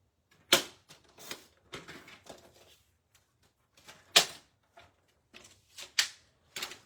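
Paper is cut into a small square, giving a run of crisp, irregular snips and clicks, some sharp and close, separated by short pauses in a quiet room.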